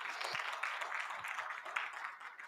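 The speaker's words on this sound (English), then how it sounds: "Can you please give them a round of applause?" Applause rises from a university convocation crowd at a public lecture, a fairly faint, distant patter of many hands clapping in an uneven stream, with a few sharper claps standing out.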